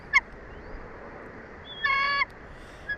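Bald eagles at a nest in Big Bear Valley give a few thin, high calls. A short chirp comes early, a longer piping series follows near the middle, and a faint call sounds at the end, all over a steady outdoor hiss.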